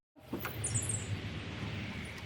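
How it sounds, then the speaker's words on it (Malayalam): Birds chirp in short bursts over a steady wash of river and boat noise on a peaceful river tour in Canterbury, the calls brief and moderately distant. "കേൾക്കാം കിളികളുടെ കളകളാരവം"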